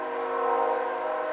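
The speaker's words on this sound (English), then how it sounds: "That is the sound of a train." A train in the American West sounds a sustained, tonal horn blast, held steady and fairly loud for a moment with no other sound around it.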